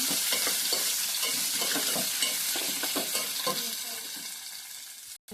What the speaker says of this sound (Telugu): ఇందులో ఇప్పుడు మనం కట్ చేసుకుని దొండకాయలు వేసేయడమే